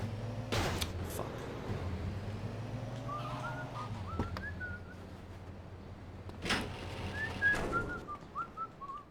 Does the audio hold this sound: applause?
no